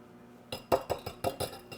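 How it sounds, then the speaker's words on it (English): Flour and baking powder are stirred together in a bowl for a chocolate cake, with a quick series of about six bright clinks and scrapes of a utensil against the bowl, close and alone. "I'm going to take my flour and add my baking powder to it and just mix that up just a little bit"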